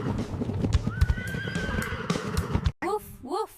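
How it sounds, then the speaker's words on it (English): A horse whinnies loudly over a busy clip-clop of hooves, then a voice speaks briefly in a rising, sing-song way. "Horse says neigh neigh."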